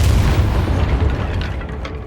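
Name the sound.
Depulso spell cast in Hogwarts Legacy video game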